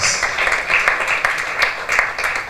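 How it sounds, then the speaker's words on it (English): An audience at a World Cancer Day commemoration in Nigeria applauds, a dense, steady patter of many hands clapping for a few seconds at moderate volume. "Round of applause for her, please."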